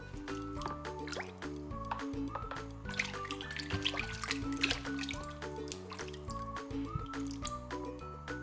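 Water drips, trickles and squishes over a clay-covered toy horse as it is washed, with light liquid sounds under a steady bed of cheerful background music.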